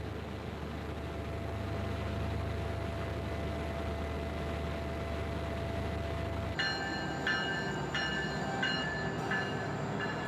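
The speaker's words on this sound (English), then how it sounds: "A train from Anchorage arrives once a day." Passenger train arriving at Talkeetna from Anchorage, a steady low rumble of rail cars rolling past, with bright metallic squeals and clanks emerging partway through.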